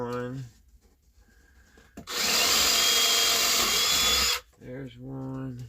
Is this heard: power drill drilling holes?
yes